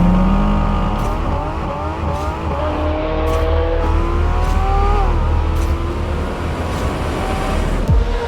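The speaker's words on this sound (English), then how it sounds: "The new GT4 RS has a 500 horsepower engine directly from the GT3" A Porsche GT4 RS with its 500-horsepower GT3-derived engine screams loudly and continuously, its pitch sweeping up and down through repeated high revs toward 9,000 RPM with no talk over it.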